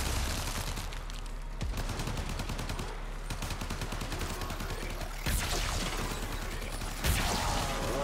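Rapid automatic gunfire from a weapon in the video game Warframe, dense rattling bursts that run almost without pause, with sharper single blasts and mechanical clatter breaking in near the end.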